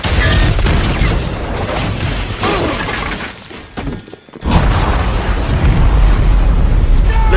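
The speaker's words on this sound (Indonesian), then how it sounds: "gas alam tadi membuat ledakan besar yang menghancurkan seluruh bagian dalam kilang minyak" A massive explosion at an offshore oil rig in the film Deepwater Horizon roars with crashing, shattering debris, fades briefly, then erupts again into a loud, sustained rumbling blast.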